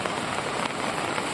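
Heavy rain pours down in Doda, Jammu and Kashmir, a dense, steady hiss of drops pattering on surfaces, loud and unbroken throughout.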